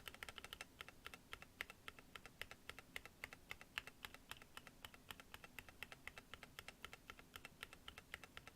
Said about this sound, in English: this is the spacebar without the fasteners